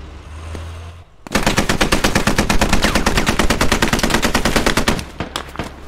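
Armored vehicle machine gun fire in the video game Squad during suburban combat, a loud, close, rapid sustained burst of shots lasting several seconds, followed by a few scattered shots and low rumble.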